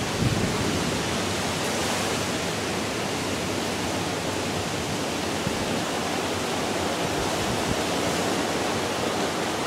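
Heavy rain pours down on a garden in a loud, unbroken broadband roar that holds constant throughout, with no voices.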